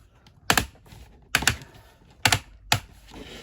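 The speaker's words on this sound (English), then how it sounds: "first off, swivel the waist 180 degrees, very heavy ratchets" Four heavy ratchet clicks, loud and close, as the waist of a Transformers Kingdom Titan Class Ark toy is swiveled 180 degrees, spaced evenly with quiet between.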